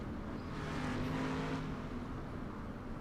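A dirt-track race car roars past a pace truck during a Kings of Sling track championship race, a loud sustained engine drone with a brief swell as it goes by, no voices.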